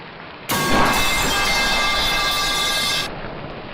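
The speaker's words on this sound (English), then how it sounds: "It started raining again," Steady, loud rain pours in a survival video game, with a dense even hiss that starts abruptly and holds for several seconds before cutting off, no talking over it.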